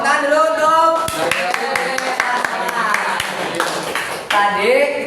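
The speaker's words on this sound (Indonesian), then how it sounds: "Tepuk tangan dulu untuk" A classroom of students claps hands together during a microteaching lesson, a quick run of sharp claps lasting a few seconds with voices talking over and around them.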